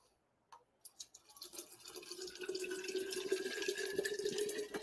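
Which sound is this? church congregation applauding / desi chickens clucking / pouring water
pouring water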